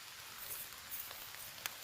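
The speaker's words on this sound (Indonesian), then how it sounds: "Ini hujannya tuh asa antara mau hujan atau enggak gitu ya, yang penting gerimis-gerimis" Light drizzle patters at a campsite, a faint steady hiss with a few scattered sharper raindrop taps.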